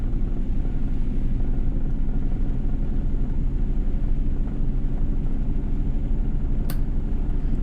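A Volvo truck engine with a 12+2 transmission rumbles steadily through a gear change, a continuous low, loud drone with wind and road noise, one short sharp click near the end, and nobody speaking.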